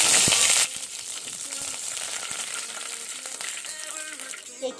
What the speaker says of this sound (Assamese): এয়া তেজপাত খিনি তেলত দি লম